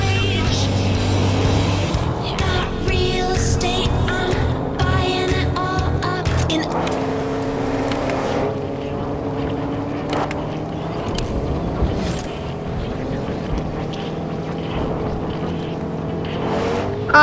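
A car drives in a Fortnite trios match, its engine humming and revving in rising and falling tones across a long run. Game noise and a few sharp clicks sit around the motor.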